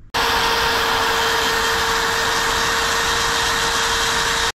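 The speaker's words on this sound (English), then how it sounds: "This is me with that Harbor Freight, you know, oversized Dremel tool that I got." A large Harbor Freight Dremel-type rotary tool spins up and grinds down a piece of aluminum with a loud, steady high whine that cuts off abruptly.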